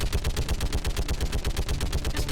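Sustained automatic gunfire in Mass Effect 3, a fast, even stream of close, punchy shots at roughly ten per second, loud and continuous throughout.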